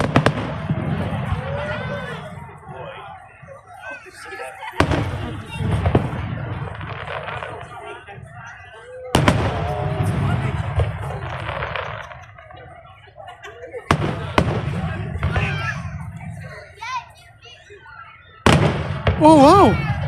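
Fireworks boom over the Manette Bridge in Bremerton: several loud bursts a few seconds apart with crackling tails, while people nearby talk and cheer throughout.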